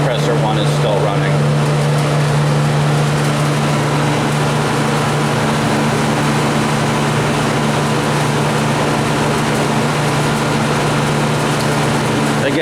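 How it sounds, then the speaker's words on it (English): A 15-ton Drake dual-compressor chiller runs with one compressor still going, a steady loud mechanical drone with a strong low hum that holds without change throughout. "Compressor 1 is still running."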